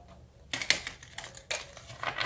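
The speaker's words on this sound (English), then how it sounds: "these usually shuffle better this way" Tarot cards are shuffled up close in a few quick, soft papery bursts, with quiet pauses between them.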